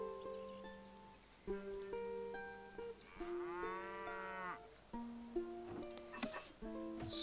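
Several sick cattle in the Stronghold strategy game give a series of separate, drawn-out moos, fairly quiet and spread across the scene with short pauses between calls.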